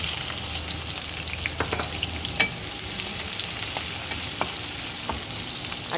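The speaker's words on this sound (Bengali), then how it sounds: "পেঁয়াজগুলোকে তেলেতে যেন পুরো নরম হয়ে যায় ততক্ষণ পর্যন্ত আমরা ভাজতে থাকবো।" Chopped onions frying in oil with garlic in a pan, a steady close sizzle with occasional light clicks of stirring, no talking.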